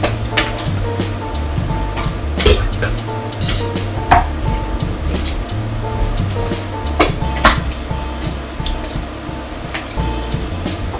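A metal utensil scrapes and clinks steadily against a cooking pot while Bicol Express is stirred, a busy, continuous rattle with occasional sharper knocks and a low simmering bed underneath.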